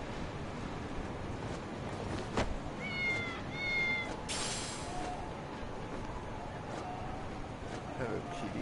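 A few short cat meows in the video game Lost Judgment, faint and brief against a quiet ambient bed, followed by a soft swish.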